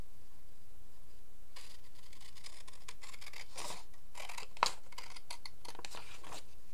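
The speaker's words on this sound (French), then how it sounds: "Et on vient découper cette partie-là." Scissors cutting a DVD sleeve, with a few soft snips and paper rustles, close and quiet.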